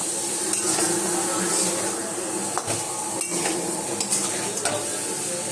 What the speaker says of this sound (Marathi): आता आपण हे मसाल्यामध्ये टाकून घेऊया। हे फ्राय करून घेऊया पनीर।